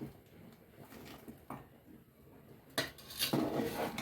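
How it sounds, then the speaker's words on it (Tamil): Palm jaggery drops into a cooking pot while making paal kozhukattai, giving soft knocks and clinks of metal on metal, with a louder scrape and clatter near the end. "ஸோ இந்த வெல்லமெல்லாம் நான் போட்டுக்கிறேன்."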